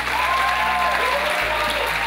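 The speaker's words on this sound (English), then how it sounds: "If we could give him a round of applause." A theatre audience breaks into sustained applause for a deployed sergeant, a dense, even roar of clapping filling the room, with a faint tonal whistle or cheer gliding through the start.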